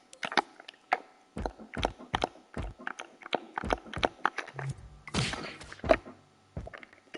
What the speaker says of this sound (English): it plays the block sound, which is this pillow thud